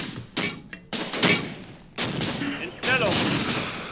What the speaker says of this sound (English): Enemy mortar fire incoming, guys.